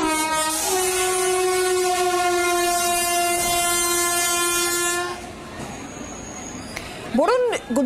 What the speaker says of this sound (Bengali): ট্রেন যাচ্ছে, একদম গা ঘেঁষে সেই গাড়ি দাঁড়িয়ে রয়েছে